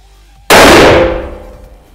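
One sharp, loud unsuppressed rifle shot fired at a 50-metre target bursts out suddenly, its report ringing and decaying over about a second.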